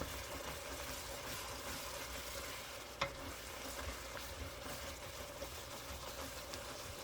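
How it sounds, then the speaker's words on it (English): Red wine hits a hot pan to deglaze it for Japanese lamb curry, a soft continuous sizzle with a single brief clink of a utensil partway through, fairly quiet and unbroken. "Add some of that red wine and get a complete deglaze off the bottom."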